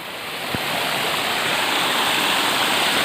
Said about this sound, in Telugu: చూడండి ఇది జలపాతం బాగా ఉన్నప్పుడు హైట్ కనిపిస్తుంది